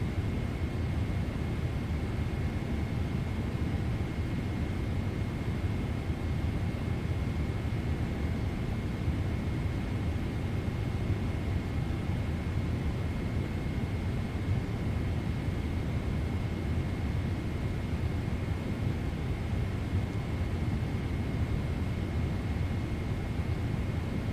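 A PMDG Boeing 777-300ER in Air Canada livery taxis in Microsoft Flight Simulator 2024, giving a steady, even jet engine rumble with a faint high whine held throughout, no voices over it.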